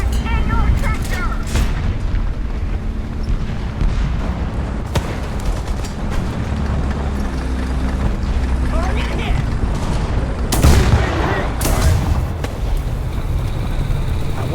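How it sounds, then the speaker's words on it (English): Artillery strike explosions in the War Thunder tank game: repeated booming blasts of varying loudness, some near and sharp, others duller, over a continuous engine rumble. "Artillery strike in your sector!"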